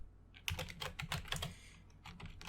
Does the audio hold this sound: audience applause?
no